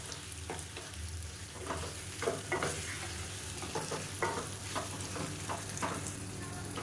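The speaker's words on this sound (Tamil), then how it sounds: "அந்த சிக்கன் அப்படியே சேர்த்துக்கணும் சேர்த்துட்டு நல்லா வதக்கி விட்டுக்கலாம்" Chicken sautéing with ginger garlic paste for a street-style chicken sukka gravy, a steady close sizzle broken by irregular scraping stirs of a spoon against the pan, with no talking.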